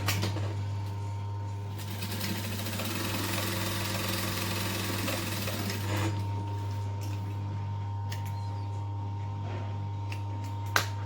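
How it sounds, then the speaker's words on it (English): A home sewing machine top stitches along the edge of a fabric bag, whirring steadily for about six seconds over a constant low hum, then stops and leaves a few scattered clicks and handling noises. "I'm just going to top stitch along here 1/8 of an inch as well"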